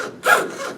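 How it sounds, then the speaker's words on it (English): A small Dremel rotary tool with a little sanding attachment works a hand-cut wood inlay, giving a brief close abrasive whir-and-rub that swells midway and then settles into a lighter grinding. "A little Dremel with a different little sanding."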